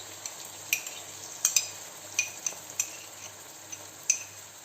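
Quiet, irregular clinks and scrapes of a spoon stirring 18% sour cream into fried onions in a pan, with a soft sizzle underneath.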